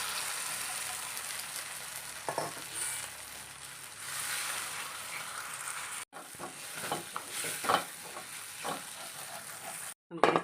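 Beaten egg hits a hot pan of sautéed onions and sizzles steadily while a spoon scrapes and stirs in short bursts, with the pan noise broken by a couple of brief silent gaps.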